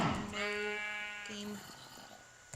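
Sheep in the Minecraft video game with the OCD texture pack bleat in two drawn-out wavering calls, clear and close over faint background noise.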